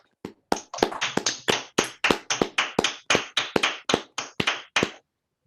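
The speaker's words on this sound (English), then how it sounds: "let's all unmute and clap and thank Alexandru for a great talk" Clapping comes over a video call after an academic talk, about sixteen crisp, evenly spaced claps in a steady rhythm, close and clear against silence.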